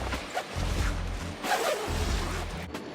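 A zipper runs along the fabric side of a Hiker Trailer mid range XL 5x9 trailer tent in a few rasping pulls, close and fairly loud, with no talk.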